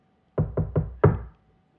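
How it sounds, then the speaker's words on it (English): Knuckles rap on a door in the Morse code V pattern: three quick knocks, then a fourth held slightly longer and louder, each a close, dull wooden thud, followed by silence. "The letter V in Morse code is 3 dots and a dash, which suggested a whole other set of tricks, such as knocking on the door like this"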